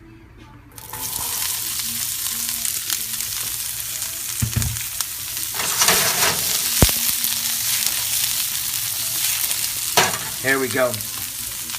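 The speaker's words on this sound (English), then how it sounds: "now that our pan is nice and hot" Asparagus hits a hot oiled pan and bursts into a loud, close sizzle that holds steady, with a few clatters of stirring and a brief spoken remark near the end.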